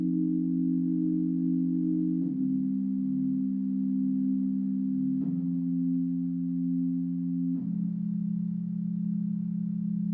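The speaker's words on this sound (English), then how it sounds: "so I've just used this sine wave default." A steady, pure synth sine tone holds low notes, stepping down in pitch every couple of seconds with soft attacks, alone and without any voices.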